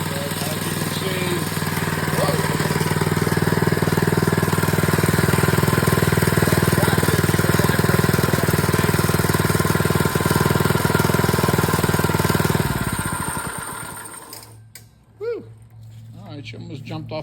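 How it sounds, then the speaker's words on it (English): A walking machine prototype's engine runs loud and steady under throttle control, a continuous buzzing drone that drops off near the end and leaves a quieter idle, with no talk. "I can slow it down and speed it up, and also have the throttle control it."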